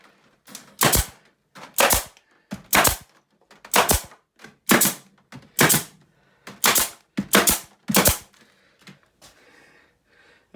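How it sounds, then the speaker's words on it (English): A staple gun fires about eleven sharp, evenly spaced shots while a piece is stapled down for a mortar shower base. Each snap is loud and close, with no talk. "Another little piece here, we'll staple that down."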